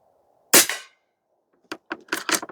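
A regulated Air Venturi Avenge-X .22 caliber budget airgun fires one sharp, close shot with a short crack and tail, followed about a second later by a quick cluster of light clicks and taps.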